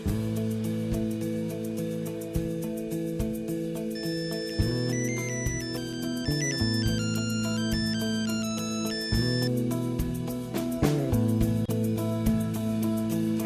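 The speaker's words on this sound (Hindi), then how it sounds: "फोन क्यों नहीं चुप रही है?" A phone ringtone plays on and on as a looping electronic melody, loud and steady over a low musical drone, with no talking during the ringing.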